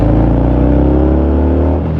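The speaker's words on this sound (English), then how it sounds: "the sound of that, even though it's a stock exhaust, the sound of it is still very cool" A 2023 Harley-Davidson Fat Bob 114 motorcycle with stock exhaust rumbles loud and close, its deep V-twin engine note rising steadily as it accelerates during a test ride.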